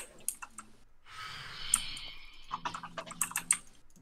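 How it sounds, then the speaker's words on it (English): Loud computer keyboard typing during an online game session, bursts of sharp close clicks separated by a breathy sigh-like noise, with no speech. "Someone's keyboard is really loud."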